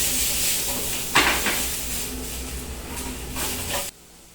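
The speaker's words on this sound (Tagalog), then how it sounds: "So, I will just gonna stir it." Beef caramelizing in a pan for pot roast is stirred, giving a steady close sizzle with scraping and clattering stirs that swell near the start, then cut off abruptly.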